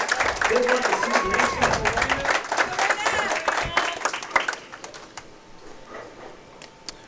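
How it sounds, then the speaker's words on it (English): Scattered applause and crowd noise ring through a bowling center during a women's professional bowling regional in Oklahoma, with an announcer talking over it and the clapping thinning out toward the end. "How about a round of applause for these two ladies?"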